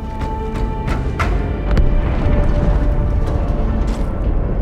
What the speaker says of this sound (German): Die Explosion kam aus dem Innern der Athen, genau wie bei der Malta.